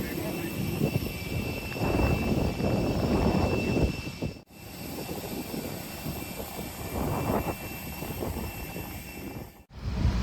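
Aircraft engine noise drones steadily at Gibraltar Airport, a continuous loud roar from the airfield with brief dropouts, while people talk over it.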